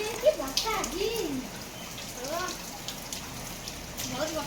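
Heavy monsoon rain falls outdoors with a steady hiss of drops on surfaces, while children's voices chatter over it throughout.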